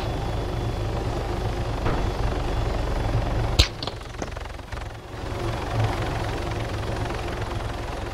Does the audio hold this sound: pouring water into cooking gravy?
no